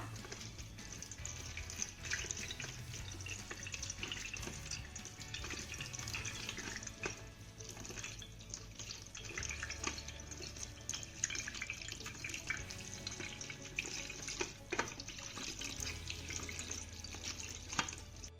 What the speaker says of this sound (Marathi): साबुदाण्यामध्ये भरपूर असं पाणी घालूया आणि याला स्वच्छ धुवून घेऊया